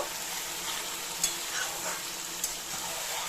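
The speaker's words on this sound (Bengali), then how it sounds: "ম্যারিনেট করা পুরো মাছটা আমি তেলের মধ্যে দিয়ে দিলাম এবার দেখো তেলের মধ্যে দিয়ে আমি নাড়াছাড়া করব" Marinated Bombay duck fish fries in hot oil with a dense, even sizzle, while a couple of faint taps of stirring cut through, close up and without any talk.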